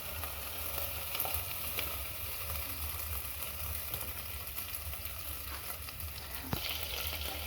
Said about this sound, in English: We let now the meat cook in the oil for 2 to 3 minutes